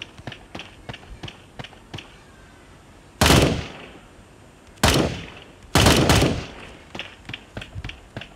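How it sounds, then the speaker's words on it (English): Gunfire in the Sausage Man video game: several loud bursts of shots, with a run of short sharp pops and footstep-like taps in between, and no talking. "I know, the shooting here is bad."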